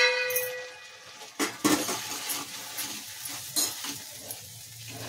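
Tomato masala for egg curry sizzles in a pan as chilli, coriander and turmeric powders are stirred in, with a few sharp spoon-on-pan clanks over a steady low fry.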